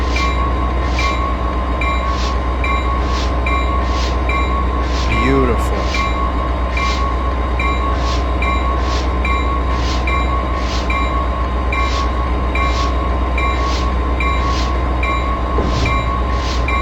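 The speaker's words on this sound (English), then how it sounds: "Notch 1 is actually so weak in this locomotive that you can't break static friction." A MARC Penn Line locomotive-hauled passenger train on the Washington DC to Baltimore run pulls away slowly, with a steady low engine drone, rhythmic clicking and a faint squeal, heard from on board; a voice briefly speaks.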